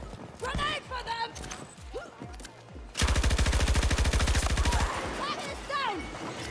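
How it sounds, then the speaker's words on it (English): Automatic gunfire in Battlefield 6 erupts as a loud, rapid burst lasting nearly two seconds, preceded and followed by scattered combat noise and voices. "They're shooting at me!"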